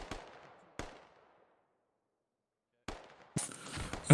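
Sharp cracks of video game gunfire in a firefight during a one-life event operation, a few isolated shots with decaying echo, then a gap of silence before a denser burst of rapid shots near the end.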